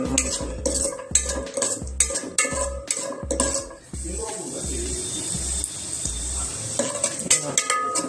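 Cashews sizzle in hot oil as a utensil scrapes and stirs the pan in a repeated rhythm, with occasional clinks of metal.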